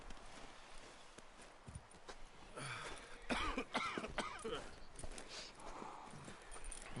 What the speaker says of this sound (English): Got him a nasty cough.